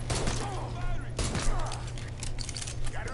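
Pistol gunfire in the NBA2K17 video game comes as a dense, rapid run of automatic shots under excited talking voices, fairly loud and continuous across the whole stretch.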